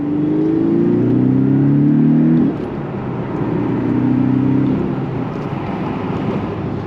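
A Porsche 718 Boxster's four-cylinder boxer engine with a manual gearbox pulls hard, its rising drone climbing through a gear, dipping at a shift, then building again, loud and close.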